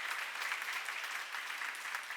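Applause from an audience at a church seminar, a steady dense clapping that holds at an even level throughout with no voices over it.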